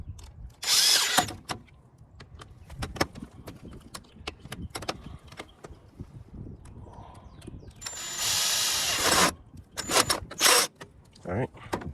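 Power tool tightening an upper oxygen sensor on a 2016 Nissan Versa: short loud bursts of whirring ratchet near the start and again later, between clicks, clanks and scattered handling noises.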